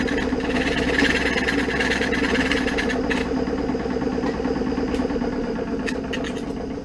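A die filing machine runs steadily with a four-sided file, giving a continuous mechanical drone and rapid reciprocating chatter, close and fairly loud throughout with a few faint clicks near the end.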